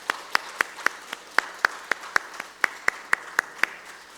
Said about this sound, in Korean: 우리 김수근 집사님부터 우리 박수로 축복합니다